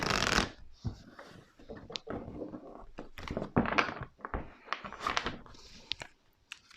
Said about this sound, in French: je vais tirer 7 cartes.